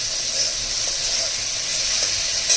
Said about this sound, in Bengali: এটা হালকা হালকা ভাজতে হবে কড়াইয়ের মধ্যে